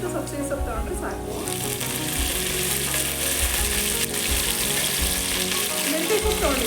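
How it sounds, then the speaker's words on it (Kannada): Dill leaves fry in a pan with a loud, continuous sizzle and occasional stirring clatter, while a person talks over the cooking. "ಇಷ್ಟು ಫ್ರೈ ಮಾಡ್ಕೊಂಡ್ರೆ ಇವಾಗ ಸಬ್ಸಿಗೆ ಸೊಪ್ಪು ಹಾಕೋತಾ ಇದ್ದೀನಿ"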